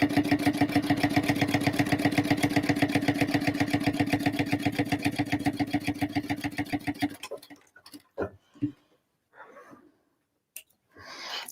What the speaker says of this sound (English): I'm just going to top stitch, and I'm just going to use my seam guide